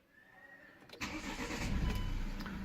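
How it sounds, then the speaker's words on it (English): A car engine cranks and catches about a third of the way in after near silence, then settles into a loud, close, steady idle. "I'm gonna start the car."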